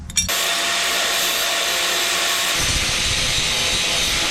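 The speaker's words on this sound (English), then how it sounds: "I'm going to quickly get my grinder, clean this up a bit" An angle grinder cleans up a weld on the sill of a VR6 car, starting abruptly and running as a loud, steady, high-pitched whine with no speech.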